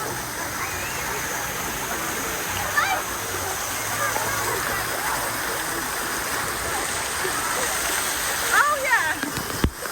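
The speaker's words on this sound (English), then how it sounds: "I want to feel the waterfall." A waterfall at a water park pours and splashes continuously, close and loud, with people talking and calling out over the steady rush of water.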